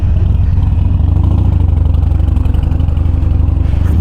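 A motorcycle engine idles during warm-up before a mountain ride, giving a loud, close, steady low rumble that continues without a break and carries no voices.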